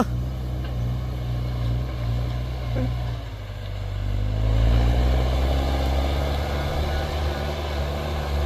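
A loud, steady tractor engine roars close by, low and powerful, with its pitch rising slightly midway as it revs harder and keeps running fast.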